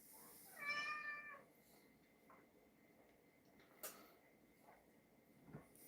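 A cat in a kitchen gives a single clear meow early on, close and fairly loud, followed by faint creaks and household rustling in a quiet room.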